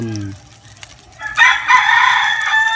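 A rooster crows loudly and close by, a long bright call filling the second half, after a brief clucking-like sound at the start, in a noisy outdoor spot with chickens around.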